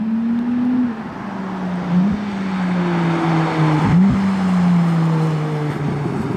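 A Ferrari Purosangue drives past with a loud, close engine note that rises and then falls as it shifts, the tone dipping as the car goes by, with no talk over it.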